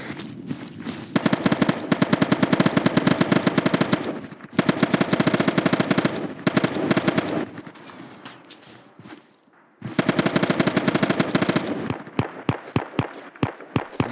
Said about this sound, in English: I'm hearing shots to our southwest.